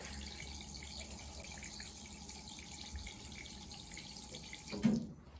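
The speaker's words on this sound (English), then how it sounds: "Oh, you see the pump activating. And now here comes the liquid." A dosing station pump dispenses liquid with a steady, faint running flow like a tap filling a sink, ending in a brief louder splash before it cuts off.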